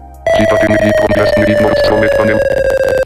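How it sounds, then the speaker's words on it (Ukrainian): The NVDA screen reader gives a sustained steady tone on a laptop touchpad as a finger moves, loud and continuous with a rhythmic pulsing pattern beneath it. "Я зараз кладу палець на середину трикпада на ноутбукові і веду його вгору. Ви чуєте звук і його тон підвищується."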